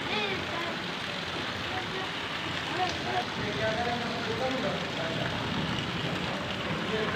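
Continuous rain falls as a steady, dense hiss of drops on surfaces, unbroken across the whole stretch, with faint murmuring voices underneath.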